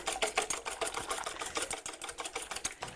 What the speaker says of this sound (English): we're going to give them a little whisk